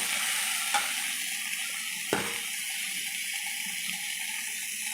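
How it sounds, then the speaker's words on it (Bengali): Chopped onion and sliced ginger frying together with whole spices in a pan, a steady bright sizzle broken by two brief sharp clicks, close and alone with no voices. "আর একটা পেঁয়াজ কুচি কুচি করে নিয়েছি দিয়ে এই মশলার মধ্যে একসঙ্গে সব ভেজে নেবো"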